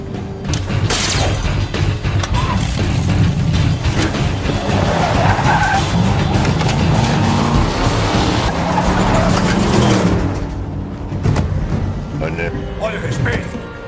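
GT car in a video game revving hard and skidding with sustained tire squeal for about ten seconds, loud and close, with voices talking over the engine noise.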